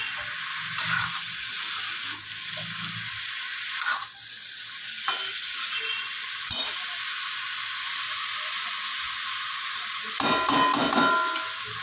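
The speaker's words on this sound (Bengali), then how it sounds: "ভালো করে মোচার সঙ্গে আলু আর মশলার মিশ্রণটি ভালো করে হাতা দিয়ে নাড়িয়ে কষিয়ে নিতে হবে।" Banana flower, potato and spice mix stir-fried with a ladle, a loud continuous sizzle with intermittent scraping stirs and a burst of clattering near the end.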